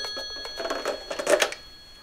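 A telephone rings in short, bright bursts that repeat quickly for about a second before fading, fairly quiet and close, with no talking.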